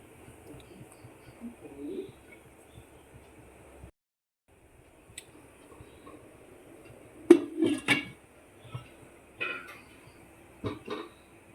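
A metal pan set down on a stovetop to steam tandoori chicken rolled in foil inside an appachembu steamer: a few sharp clanks and clatters in a quiet kitchen, louder toward the end.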